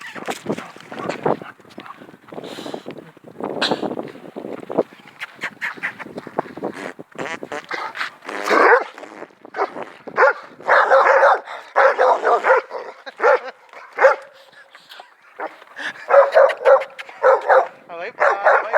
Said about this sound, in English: The guard dogs are fighting.